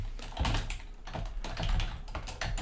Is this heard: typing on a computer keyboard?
yes